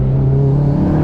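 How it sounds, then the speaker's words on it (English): A 2001 Subaru RSTI turbo car accelerating hard, a loud, close, steady engine drone with a rising whir from the turbo, brief and without speech. "Damn, that turbo's loud."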